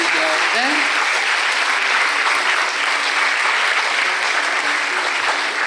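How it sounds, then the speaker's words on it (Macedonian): An audience at an International Nurses Week event breaks into loud, sustained applause, a dense wash of many hands clapping evenly throughout. "А сега ве молам еден огромен аплауз"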